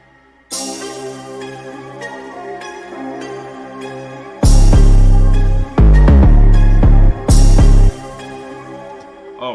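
Deep, booming 808 bass notes with reverb hit hard in a few long sustained blasts, smeared by the heavy reverb, over a melodic synth line in a hard trap beat.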